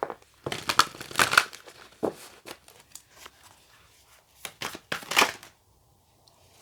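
Cards from an Angels and Ancestors oracle deck being shuffled and one drawn, a run of close, crisp papery riffles, slaps and rustles in bursts across the stretch with short pauses, no voice.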